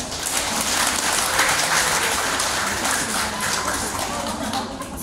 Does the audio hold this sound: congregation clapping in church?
yes